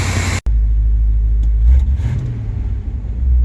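A one-ton pickup truck engine with 207,000 kilometers idles loud and close, a steady low rumble after a brief cut, rising once in a mild rev before settling back to a constant drone.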